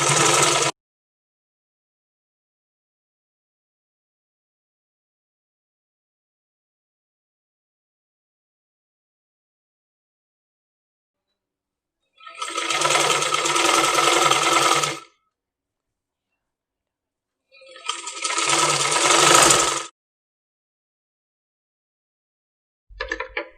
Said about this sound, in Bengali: এখন আমি সেলাই করে নিচ্ছি